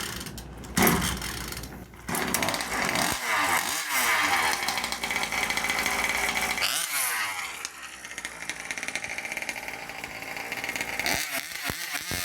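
A 2-stroke gas engine on a King Motor RC car is pull-started, with a rasp of the pull cord before it catches, then runs loudly and raggedly close by, its buzzing pitch rising and falling.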